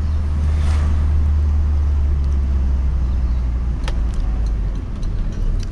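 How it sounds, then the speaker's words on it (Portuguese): A carbureted engine in a 1979 Volkswagen Passat TS idles steadily, with a deep constant hum close by, a few faint ticks and no talk. "Mas esse aqui é carburado, é marcha lenta."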